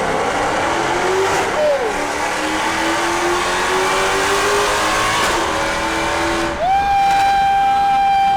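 Mercedes-AMG engine from a 507 Edition or C63 S revving hard, a loud sustained roar that climbs in pitch, drops, then surges up again near the end, with some voices and background noise around it.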